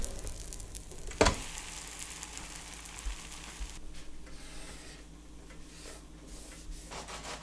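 Bread lightly brushed with butter toasts in a pan, giving off a quiet, steady sizzle. A single sharp knock comes early on, and then the soft hiss carries on alone.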